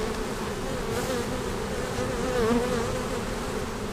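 Bees from a swarm-caught hive buzz steadily during an inspection, a close, dense drone with individual insects rising and falling in pitch as they fly past, no voices.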